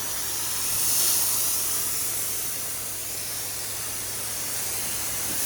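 Steady broadband hiss of a pressure washer spraying house siding, continuous and fairly loud, with a low motor hum underneath and no talking.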